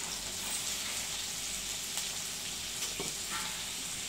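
Onion frying in a pan for a spinach and potato bhaji, a soft, steady sizzling hiss with faint crackles, fairly quiet and continuous, with no talking.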